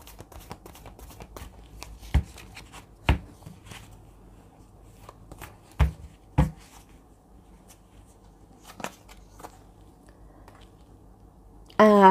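Tarot cards are shuffled and handled in a few sharp, separated riffles and snaps over a quiet room, with a soft voice heard now and then.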